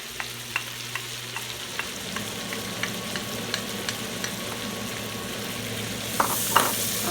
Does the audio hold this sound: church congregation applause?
no